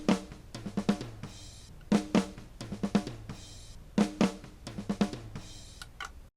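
A close-miked snare drum in a drum fill, with sharp repeated hits in uneven groups and tom strikes bleeding in between as lower, ringing thumps.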